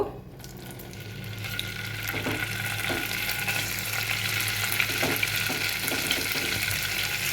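Paneer pieces fry in a pan with a steady, moderately loud oil sizzle, punctuated by a few soft scrapes and clinks as they are moved around, with no one talking.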